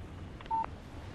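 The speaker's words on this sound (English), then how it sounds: "Text message from Barry" Alan Wake video game phone chiming a text message alert: a short, faint electronic beep pair lasting about a quarter second over a quiet background, with no speech.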